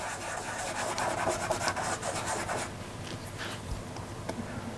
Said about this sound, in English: I can rub it in with my finger quite firmly then as a first layer